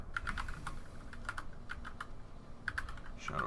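Computer keyboard keys are typed in slow, irregular taps, fairly close and quiet, with short pauses between clusters of keystrokes.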